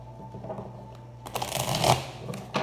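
Cards are riffled and shuffled at close range, a soft flutter building after a quiet start, with a brief snap near the end.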